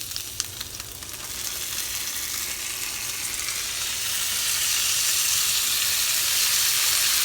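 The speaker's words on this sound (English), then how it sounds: "last little grill on all these, just to add a few more brown grill marks to give it that nice grill flavor" Tofu sizzles steadily on a George Foreman grill, a loud continuous frying hiss that swells slightly louder toward the end, with no voices over it.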